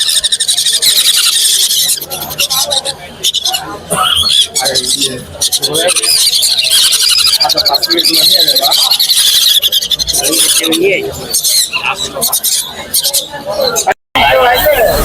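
Pet birds at a Mirpur bird market fill the air with dense, continuous high squealing and chirping calls, loud and close, with crowd babble running underneath throughout.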